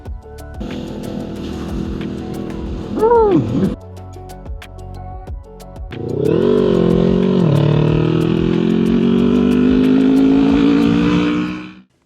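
A Ninja 500 motorcycle fitted with a new throttle revs and accelerates nearby. The engine note rises in a short burst, then holds a long, loud, climbing pull before cutting off.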